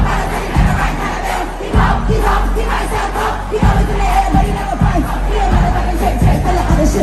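A large concert crowd in Rabat, at a festival, cheers and shouts in a loud, dense, continuous roar. It rises and falls in waves with collective chanting.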